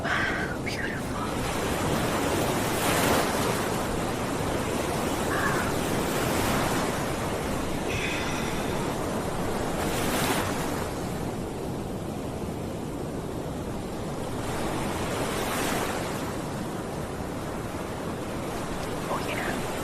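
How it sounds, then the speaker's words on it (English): Ocean surf washes in steady broad surges with heavy wind buffeting close to the microphone, and a voice can be heard faintly beneath the roar. "Look at the ocean. It's so beautiful."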